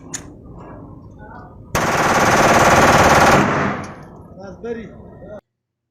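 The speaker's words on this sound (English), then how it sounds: "Here we have a machine pistol." Machine pistol firing a single long, loud, rapid burst of automatic fire lasting under two seconds, with faint voices and handling noise before and after.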